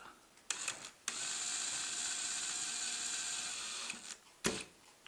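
Fingerprint keyless entry bedroom door lock being screwed into a door, a sustained whirring mechanical run of a few seconds framed by sharp clicks and knocks, close and without speech.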